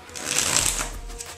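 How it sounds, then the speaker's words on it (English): Playing cards shuffled during a card trick, a quick riffle of dense papery flutter lasting just over a second, close and moderately loud with no talk over it. "a bit of a shuffle"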